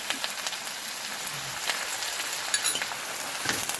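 Hot oil with browned shallots, curry leaves and chilli powder hisses and crackles as the tempering is poured into a sardine chilli curry, a steady close sizzle with scattered pops.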